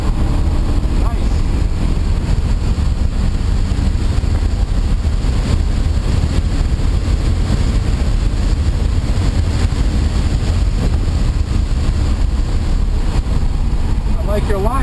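An Audi RS4 engine drones under light throttle on the Lime Rock race track, heard from inside the car beneath heavy buffeting wind noise, with an instructor's voice talking over it.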